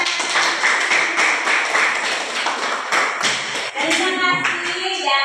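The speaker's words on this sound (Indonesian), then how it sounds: "Luar biasa. Tepuk tangan." A classroom of students clapping their hands together, loud, close, rhythmic claps that run on for several seconds and then give way to a voice speaking.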